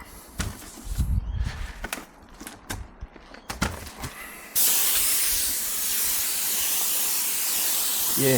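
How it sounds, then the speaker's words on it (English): A steady, loud hiss of a spray gun applying UV treatment to outdoor furniture starts partway through and runs continuously to the end, following a stretch of scattered clunks and knocks. "so good use for the spray gun"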